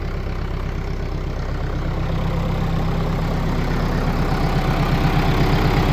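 A tractor engine with around 12,500 hours idles steadily while warming up in the cold after a hard start, a loud, even, low chugging rumble close by with no voices.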